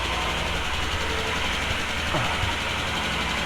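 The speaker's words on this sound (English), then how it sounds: "That click that you get to hear is the valves, the tappets" A Royal Enfield Himalayan motorcycle idles shortly after a cold start. The engine runs in a steady low rumble, and faint rhythmic tappet clicks sit on top of it at close range, with no talking.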